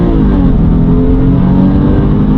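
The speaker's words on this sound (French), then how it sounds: "J'ai accéléré, elle a fait la 1, elle a fait la 2, elle change de vitesse toute seule." Porsche 911 (997) with Tiptronic automatic gearbox accelerating, its engine note climbing through first into second gear as the box shifts itself; a loud, steady near engine drone with rising harmonics, no talking.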